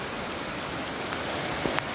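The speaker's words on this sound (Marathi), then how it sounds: "तुमच्याकडे आहे का असा पाऊस?" Steady rain falls in Karjat village, a dense even hiss of drops on surfaces close by, with a couple of brief sharper splashes near the end and no voices.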